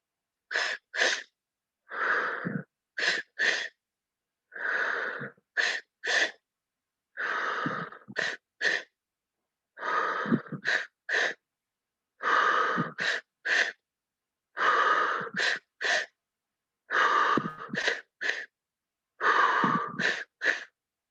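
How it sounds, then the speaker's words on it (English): Rhythmic Kundalini breathing repeats about ten times: quick breaths drawn in, first to the belly and then to the chest, each followed by a forceful exhale through the mouth. The cycle is steady, close and fairly loud, with short pauses and no talking. "first breath in fills the belly, next breath in fills your chest, and then out through your mouth"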